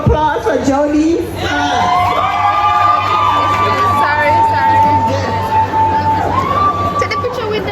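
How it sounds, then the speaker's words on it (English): At a community college graduation, a crowd cheers and whoops for a graduate in a loud, sustained burst of voices, with nearby people talking over it. "Round of applause for Jodie."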